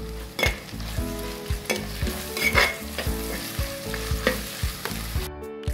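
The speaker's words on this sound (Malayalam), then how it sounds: "ഇതെല്ലാം കൂടി നല്ലതുപോലെ വഴറ്റിയെടുക്കുക." Ingredients sautéing in a pan for Kerala-style fish head curry, a continuous sizzle punctuated by rhythmic spatula scrapes and knocks every half second or so, close and without talk.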